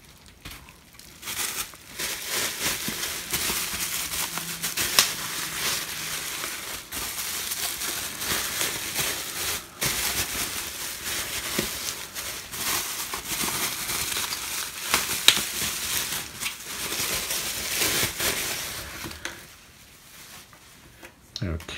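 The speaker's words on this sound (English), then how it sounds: "Let's get it out of its packaging here." An LED magnifying lamp is pulled from its plastic packaging, with steady crinkling, rustling and tearing of wrap running close and fairly loud for most of the stretch before tapering off near the end.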